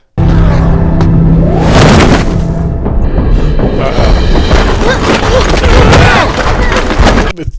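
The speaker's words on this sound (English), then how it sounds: "The sound effects on the fighting are really good." Dense, loud fight effects from the animated show Arcane, with heavy thuds, crashes and impact bursts running almost nonstop, then cutting off abruptly near the end.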